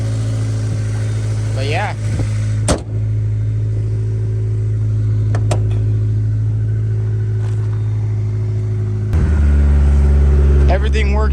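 Honda S2000 engine running steadily nearby with a low continuous hum, someone speaking briefly over it, a few sharp clicks, then a deeper, louder rise in engine note toward the end.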